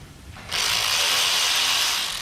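Wrench or ratchet working brake caliper guide pins loose during a brake job, a close, steady harsh mechanical whirring that starts abruptly after a quiet moment and holds for about two seconds.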